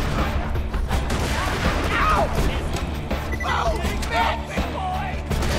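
Dense gunfire and crashing explosions from the video game Borderlands 2 burst in a loud, continuous barrage, with a voice talking over the chaotic combat.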